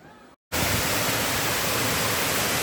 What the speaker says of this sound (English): this is the Wepre waterfall